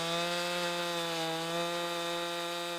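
A chainsaw buzzes steadily at close range during farm tree work, cutting wood in one continuous, loud, even drone for a few seconds with no pause.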